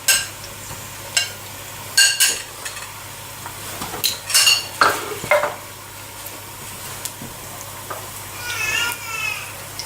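Onions stirred and fried in a pan for vegetable pilau, with a series of distinct scraping, clinking strokes of a utensil against the pan over a low sizzle, and faint voices in the background.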